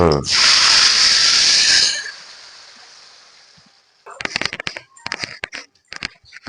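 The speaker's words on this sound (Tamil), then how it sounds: "கடுகு பொரிஞ்சிருச்சு." Mustard seeds hit hot oil for a fish curry and burst into a loud, sizzling hiss that fades over a couple of seconds, followed by a run of sharp, scattered pops and spatters as the seeds keep spluttering in the pan.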